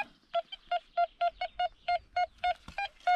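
Metal detector sweeping over a beach and field, giving a broken, deeper signal: a regular train of about a dozen short, clear electronic beeps, evenly spaced and fairly close, with faint background rustle and no talk.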